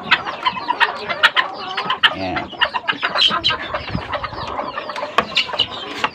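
Two hens cluck close by in a busy, uneven stream of short clucks and squawks, with other chickens and a brief spoken word in the background.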